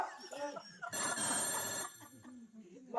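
A telephone bell rings once in a short burst, with people talking before and after it.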